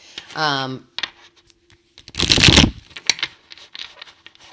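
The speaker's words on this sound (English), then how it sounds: "felt like I needed to give it one more or two shuffles here" A brief harmonic vocal sound at the start, then a quick burst of riffling tarot cards in the middle, followed by soft handling taps.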